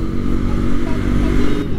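Bajaj Rouser NS 200 motorcycle engine running close by, a loud continuous rumble with a steady throb and faint clatter, no speech.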